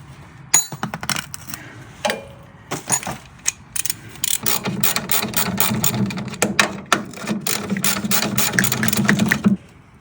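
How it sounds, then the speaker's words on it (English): A ratchet turns bolts during removal of a Porsche 356 transmission, giving close, rapid bursts of metallic clicking that start and stop irregularly, with brief pauses between runs and no talking. "Oh no, I've got a ratchet here."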